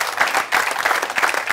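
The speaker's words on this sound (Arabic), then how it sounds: "هاي صفقوا عليه" Studio audience on a Tunisian TV variety show clapping for a man, a steady burst of dense applause filling the whole moment.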